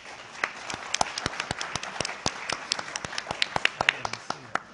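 Audience applause after a stage play performance at a Vietnam POW symposium. Scattered sharp claps close to the listener, irregular and fairly sparse, as a small group applauds.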